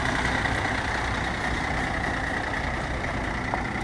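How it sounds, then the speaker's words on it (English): A brand-new 2022 Kenworth truck runs its diesel engine with a steady, loud low rumble and constant mechanical drone as it pulls out of the lot. "Brand new 2022 Kenworth."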